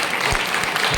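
A church congregation claps dense, continuous applause at a Sunday service, loud and steady for a brief moment.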